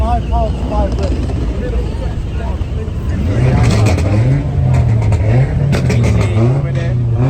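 Car engines rev loudly at a large UK car meet, a sustained throaty drone that rises and wavers in pitch, with people talking nearby over the noise.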